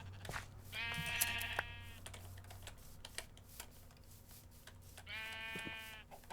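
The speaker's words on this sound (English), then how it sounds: "Apparently all the sheep in the world are over here." Sheep in the Minecraft video game bleat twice, a few seconds apart. Each call is a clear, buzzy, harmonic bleat of about a second, mixed with soft clicks from a computer keyboard and a faint low hum underneath.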